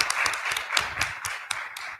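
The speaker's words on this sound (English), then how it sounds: "So a round of applause for. Great job." Audience applause at a community town hall in Southern Maryland, a steady patter of many hands clapping with distinct claps standing out, moderately loud, fading slightly toward the end.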